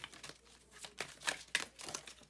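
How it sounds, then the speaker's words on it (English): Tarot cards are shuffled by hand in quick, papery riffles and slides, a few soft crinkling bursts in close succession, fairly quiet and close up. "let me just shuffle the Celtic spread"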